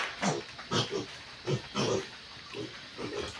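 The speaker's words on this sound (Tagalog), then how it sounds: "Yan na po ang mga biik." Piglets grunt and squeal in short, close bursts on a farm, several overlapping oinks coming in an uneven rhythm.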